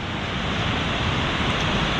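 Rushing water of the Zolotonosets waterfall in Abkhazia, a steady, loud broadband roar that holds constant from start to finish with no other sounds.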